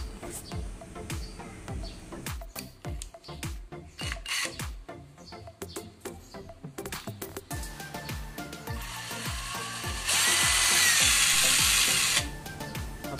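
A Delton 75V cordless three-mode drill with two speeds runs in a series of short bursts, whirring up and stopping repeatedly, then holds one longer, louder high-speed run near the end.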